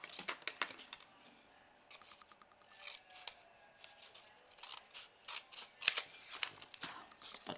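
Scissors snip through material for a small crossbody bag, in a series of quick close crisp cuts with short pauses and a little rustling between them; no voices.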